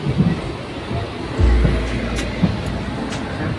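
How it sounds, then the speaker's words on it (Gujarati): A passenger train pulls slowly out of Rajkot station bound for Junagadh, with a low, steady rumble, a heavier surge partway through, and faint clanks and background commotion. "ધીમે ધીમે ઉપડી છે આપણી ટ્રેન"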